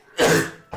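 A single harsh cough bursts out, closely followed by a shorter second cough or throat-clear.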